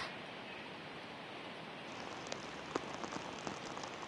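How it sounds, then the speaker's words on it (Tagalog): Heavy rain pours in Baguio City, Benguet, a dense steady hiss of drops on surfaces with scattered louder close drips toward the end, no voices. "Emil, patuloy pa ring nararanasan ang malakas na pag-ulan dito sa Baguio City at Benguet."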